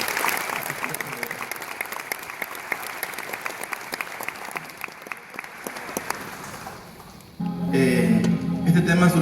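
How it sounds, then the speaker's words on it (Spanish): An audience at a conference talk gives sustained applause for the host, a crowd of many hands clapping steadily at moderate distance before a louder, fuller burst near the end. "yo les pediría un aplauso fuerte para Jaime"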